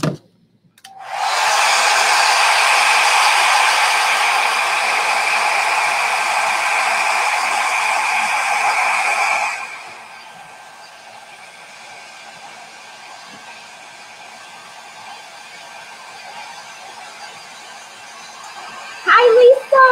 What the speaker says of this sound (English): Let me blow dry this real fast.